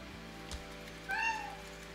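A cat gives a single short, clear meow in an indoor room, close and moderately loud over a quiet background hum.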